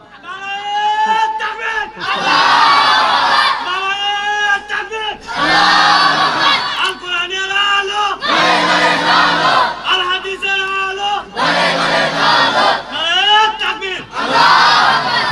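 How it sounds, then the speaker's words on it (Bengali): A large crowd of young men at an outdoor Islamic religious gathering shouting takbir in loud unison, several bursts of massed chanting separated by short gaps, close and booming. "যুবকেরা তোমরা তাকবীর দাও তো দেখি"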